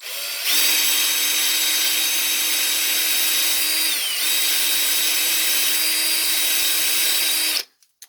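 A power drill whines steadily into the wood of a Native American flute kit, boring the blow hole, for about seven seconds, dipping briefly midway, then stops abruptly, followed by a couple of light clicks.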